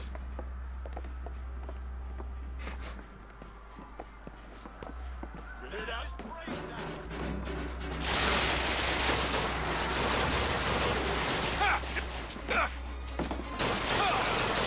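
Rapid gunfire erupts in BioShock Infinite, a dense fusillade of shots growing louder in the second half over game sounds and a low steady hum, with a person talking throughout.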